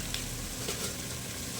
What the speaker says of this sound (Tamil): கடுகு போட்டுக்கிறேன்.